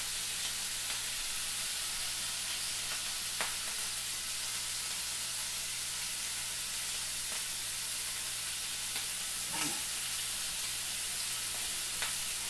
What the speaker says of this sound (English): Hopefully you can hear me over the sound of my cooking bacon